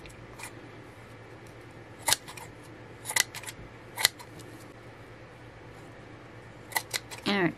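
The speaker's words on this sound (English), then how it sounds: "And I have to do some trimming." Scissors snip as ribbon is trimmed for a messy bow on a love letter post box craft, a few sharp isolated cuts spaced apart, with a quicker cluster of snips near the end against a quiet room.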